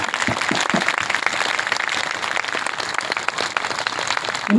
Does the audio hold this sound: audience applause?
yes